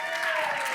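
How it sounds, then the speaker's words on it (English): Audience applause on a live talk show, a brief, moderately loud burst of many hands clapping that carries evenly through the moment. "Let's give a round of applause to him and your 3."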